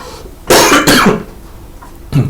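Two loud, close coughs in quick succession, then a softer third cough a moment later, with no talking.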